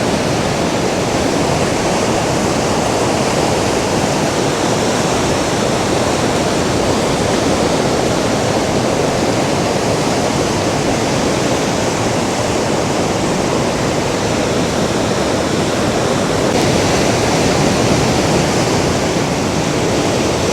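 Ocean surf rolling in at Las Americas beach, Tenerife, where surfers ride good waves; a loud, continuous broadband wash of breaking water runs steadily throughout, close and unbroken, with no voices.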